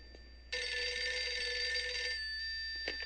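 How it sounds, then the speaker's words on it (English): A telephone rings in the horror video game Eternal Darkness, one long bright electronic trill lasting about a second and a half after a quiet start, then a brief second burst begins near the end. "Phone ringing? Where is the phone?"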